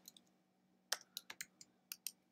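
Sparse, crisp keystrokes on a computer keyboard in a quiet room, about nine distinct clicks in quick irregular succession after a short pause.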